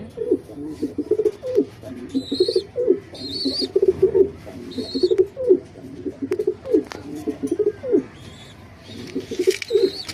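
Racing pigeons coo repeatedly at a loft, a steady run of close, rhythmic throaty coos with a few higher chirps mixed in, no talking.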